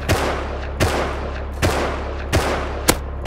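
Gunfire in the video game Rust: a series of five sharp shots spaced roughly evenly apart over a constant low background hum, loud and close.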